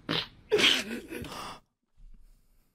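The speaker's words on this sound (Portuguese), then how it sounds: "Ele peidou-se na cara." A person farts in a short comedy bit, a loud raspy burst followed by a longer sputtering one, then brief quiet and a faint trailing noise.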